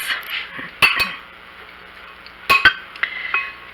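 Leftover French fries tossed in a pan with seasoning, giving a few sharp metallic clanks and clinks in two clusters over a quieter background hiss.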